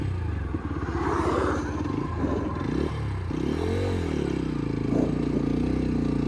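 A 2025 TVS Apache RTR 160 4V motorcycle pulls away in third gear, its mid-pitched engine labouring low then rising steadily in pitch as it gathers speed, close and continuous under wind rush.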